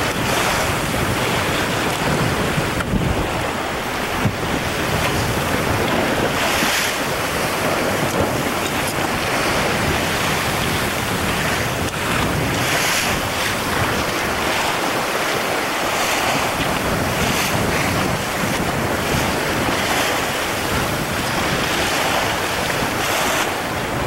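Sailing on the St. Lawrence River in roughly twenty-knot wind, a dense roar of gusting wind buffeting the microphone over the constant wash and slap of waves against the hull.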